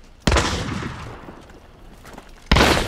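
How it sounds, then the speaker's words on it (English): Shotgun blasts in the video game Hunt: Showdown, two sharp, loud booming shots about two seconds apart, each with a rumbling tail over a low background din, no talking. "right in front of you, I'm about to shotgun them."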